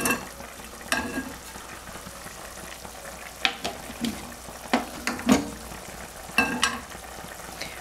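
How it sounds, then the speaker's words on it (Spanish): A homemade sofrito for lentil soup sizzles steadily in hot oil, with a low continuous fry and scattered close scraping and stirring clicks from a utensil in the pan. "Aquí hemos colocado un poco de aceite y vamos a hacer un sofrito con la salsa que siempre hemos utilizado."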